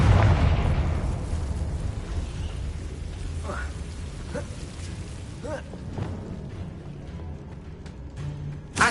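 A Confringo blasting spell goes off in the Hogwarts Legacy video game, starting with a loud rumbling boom that rolls into a long, fading roar, with lighter crackles and a few sharp bursts near the end. A voice calls out spells over it.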